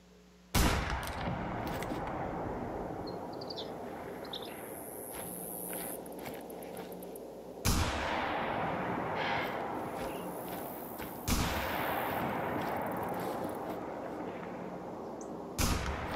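Rifle shots fired at a bison in The Hunter: Call of the Wild, four sharp, loud reports spaced several seconds apart, each followed by a sustained outdoor rumble and ambient wilderness noise.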